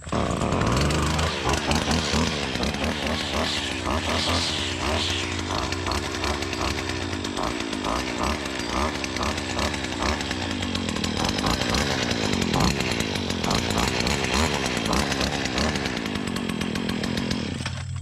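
A small engine, pull-started on half choke, roars close and loud with a buzzing, chainsaw-like drone that runs steadily and unbroken for the whole stretch.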